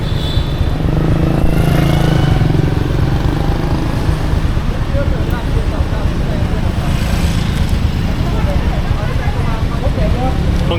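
Dense, steady street traffic in Vietnam, motorcycle engines droning and buzzing continuously near and far, with speech mixed in throughout.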